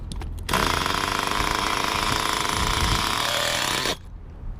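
A Hyper 7 engine, recently fitted with new parts, runs steadily after its idle mixture screw is leaned out a quarter turn. It gives a loud, harsh, continuous buzzing drone for about three and a half seconds, then cuts out abruptly.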